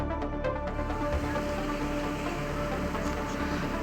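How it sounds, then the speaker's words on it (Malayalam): Steady rain falls in Ernakulam, Kerala, during a flood alert, a continuous close patter on surfaces filling the scene with no talking. "മഴയുടെ ശക്തിക്ക് കുറവുണ്ടെങ്കിലും മഴ ഇപ്പോഴും തുടരുക തന്നെയാണ്"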